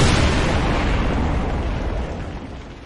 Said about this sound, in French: le grondement de la dynamite secouait les parois